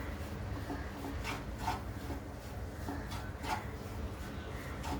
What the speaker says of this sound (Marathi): पीठ आपलं छान भाजत आलंय